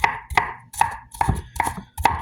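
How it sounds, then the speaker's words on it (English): A knife chops a very strong onion on a cutting board in about six sharp, evenly spaced strokes, each a close, crisp knock. "Let's put this aside and cut our onion."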